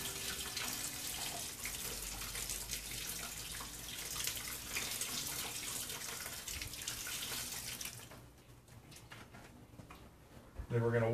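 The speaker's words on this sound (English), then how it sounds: "all we're doing here is we're just rinsing it" Clean water pours steadily onto grain in an all-grain homebrew mash for rinsing, a continuous close splashing wash that stops near the end, leaving quieter background.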